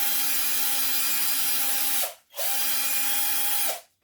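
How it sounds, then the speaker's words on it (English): A power drill bores a hole through wood for a homemade birthday calendar, whining steadily for about two seconds, then stopping briefly before a second equally loud burst of drilling. The sound is close and there is no talk. "it's just a case of drilling a hole"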